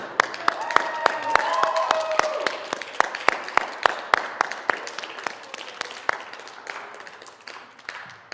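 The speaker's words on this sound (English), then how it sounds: "one more round of applause for all 5 of the beautiful songwriters" A small live audience claps for five songwriters at a music therapy songwriting competition. It starts as a steady patter and thins into scattered individual claps, with light talk underneath.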